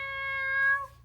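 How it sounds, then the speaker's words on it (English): Cartoon cat giving a single clear, tonal meow, close and fairly loud, rising slightly before trailing off. "Meow."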